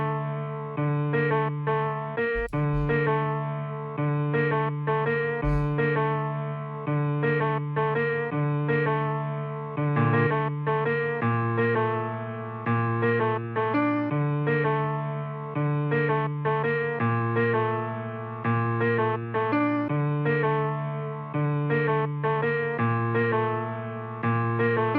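A stock Mellotron-style piano preset in FL Studio plays a simple minor-key melody. The tone is sustained and heavily processed, with chorus and echo-like effects, and steady layered notes run throughout with no voices.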